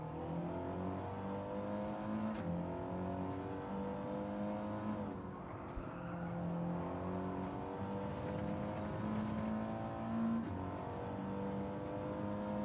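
Car engine in Gran Turismo 7 on PS5, revving steadily with shifting harmonic pitch throughout, loud and continuous with brief dips and surges as the throttle changes.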